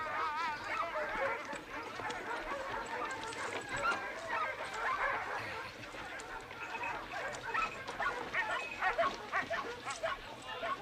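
Dog barking and yipping amid busy voices and clatter in an outdoor frontier-style scene, the barks recurring irregularly at moderate distance, partly under people talking.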